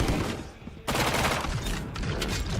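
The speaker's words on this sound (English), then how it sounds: "Some shots here with the frenzy in hand." Frenzy pistol shots in an esports match of a tactical shooter, dense rapid gunfire mixed with game effects, loud and continuous under a caster's commentary.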